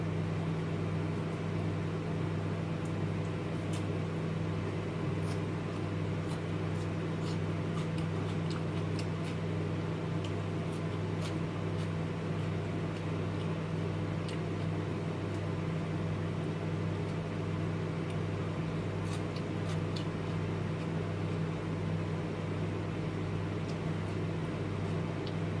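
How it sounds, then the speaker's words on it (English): A microwave oven hums steadily while heating carrots, a constant low mechanical drone with faint scattered ticks and small pops, close and unbroken for the whole stretch with no talking. "when you put them in the microwave, they start bang in the microwave"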